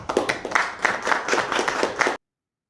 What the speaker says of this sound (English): so a bit of clap there, a bit of a show for that signing after Trump